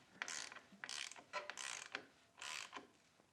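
Ratchet working a bolt on a Kawasaki Concours 1000 motorcycle, several quick bursts of rapid clicking close by, each lasting a fraction of a second with short pauses between, no voices.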